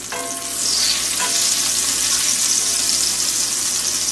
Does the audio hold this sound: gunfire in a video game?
no